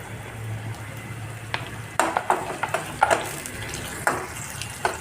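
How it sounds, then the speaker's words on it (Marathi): Finely chopped garlic and green chili hit hot oil in a pan, a rising sizzle with several sharp clatters and scrapes from stirring close by. It starts over a quieter hiss. "आता ॲड करूया बारीक कट केलेला लसूण आणि बारीक कट केलेली हिरवी मिरची"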